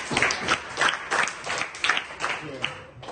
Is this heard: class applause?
yes